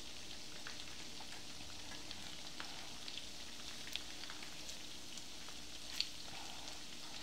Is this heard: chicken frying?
yes